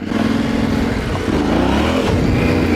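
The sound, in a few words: Yamaha Tenere 700 motorcycle throttle opening off-road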